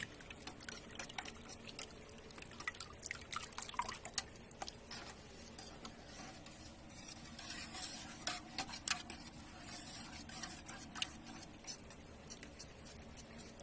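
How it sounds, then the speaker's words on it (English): A whisk scrambles raw eggs inside a metal pot on a stovetop burner, making a steady, busy scraping and clinking that runs without pause, close and moderately quiet, with no talking. "you want to grab a whisk and you want to scramble them up"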